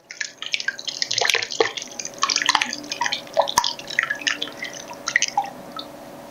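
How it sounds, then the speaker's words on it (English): Whey drips and splatters as curds are poured into cheesecloth for homemade feta made from whole milk: a steady run of close, bright patters and splashes with a few sharper drops, and no speech. "And we are going to pour it in."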